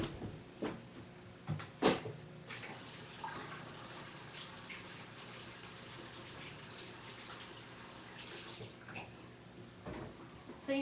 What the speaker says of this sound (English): So I'm gonna go and wash my hands.